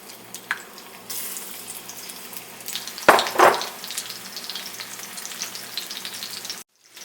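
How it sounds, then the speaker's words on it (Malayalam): Prawns dropped one by one into hot oil in a frying pan, a continuous crackling sizzle that bursts louder as they hit the oil, close and without talk. "ഇതിലോട്ട് ഞാൻ നമ്മുടെ ചെമ്മീൻ ഓരോന്നും ആയിട്ട് ഇട്ട് കൊടുക്കാം."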